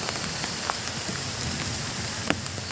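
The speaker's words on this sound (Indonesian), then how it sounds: "Cuacanya hujannya deras ya," Heavy rain falls steadily on a campsite shelter by a river, a constant dense hiss with occasional louder drops striking close by, no voices.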